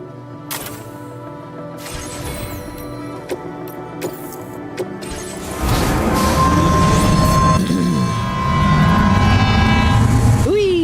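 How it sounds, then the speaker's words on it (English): A monorail train in the video game Death Stranding 2 runs past, with scattered clicks and knocks first, then a loud sustained rolling rumble with tonal whine building midway and continuing to the end. "Brand new monorail line."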